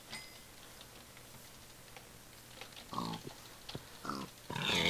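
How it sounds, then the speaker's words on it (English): A pig in a survival video game gives several short grunts and oinks, growing louder toward the end against a quiet backdrop with faint ticking. "Pigs, pigs, pigs, pigs. Come here, Mr. Piggy."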